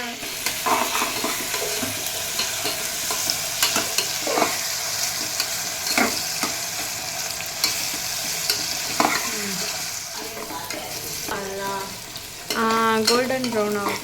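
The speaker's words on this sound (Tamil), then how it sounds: "வதக்கி விட்டுக்கலாம்" Biryani ingredients are sautéed in a pan, loud steady sizzling under repeated scraping stirs of a spatula, with sharper metallic clatters and a brief squeaky scrape toward the end.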